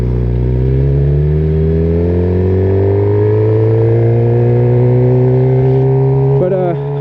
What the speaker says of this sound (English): The intake cowl on this bike is really loud